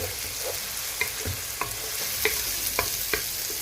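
Onions fry with ginger and garlic in a pan for pilau njeri, a steady close sizzle broken by several sharp scraping stirs of a spoon against the pan.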